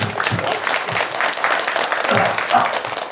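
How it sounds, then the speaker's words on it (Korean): Audience applause at a Buddhist dharma talk in a temple, moderate clapping from a gathered crowd with some voices mixed in, short and fairly close. "박수 좀."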